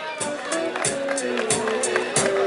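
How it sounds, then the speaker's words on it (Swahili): A crowd at a university music talent show claps for a performer named Raymond, a run of sharp, rhythmic claps at a steady beat over a faint sustained tone in a room. "Makofi kwake Raymond."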